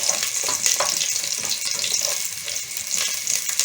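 Garlic and onion sauté in a pan for lentil soup, making a steady, close hiss of frying with light stirring throughout.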